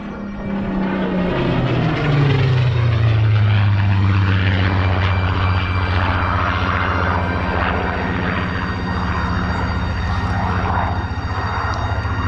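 A propeller plane drones loudly overhead, its engine pitch sliding downward as it passes, then holding a steady hum as it continues on.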